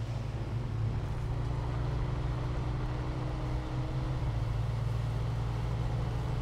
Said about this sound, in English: This truck sounds a little weird to me.